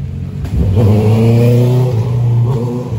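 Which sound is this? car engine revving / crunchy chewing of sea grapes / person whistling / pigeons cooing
car engine revving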